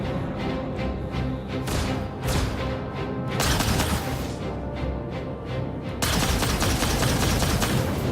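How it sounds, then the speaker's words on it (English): Rapid, loud automatic gunfire from ship weapons in Star Citizen, sustained bursts of pulsing shots with short gaps, growing denser and harsher toward the end, no voices. "It still seems like he's firing."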